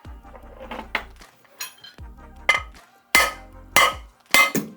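Hammer blows knock the gas cylinder out of the base of a Herman Miller Aeron office chair, several sharp metallic strikes of rising force, with loud ringing clanks toward the end and short gaps between them.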